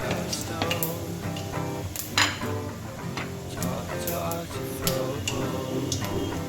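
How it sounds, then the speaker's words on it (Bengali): Panch phoron spices sizzle and crackle in hot oil in a pan for a jujube chutney, a steady frying hiss dotted with light stirring clicks, close and continuous, with soft tonal background sounds. "পাঁচফোড়নটা দেখেন বেশ ভাজা ভাজা হয়ে গেছে"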